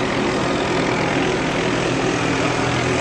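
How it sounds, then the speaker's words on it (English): A loud, steady helicopter drone fills the whole moment, a continuous rotor-like roar with no breaks, as if flying low overhead, in Glendale, California, after a plane crash. "there's helicopters everywhere in the air"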